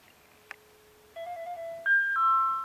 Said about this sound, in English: This phone is ringing now